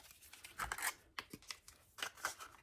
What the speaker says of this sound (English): now I'm gonna cut it up perfectly square to fit over this piezo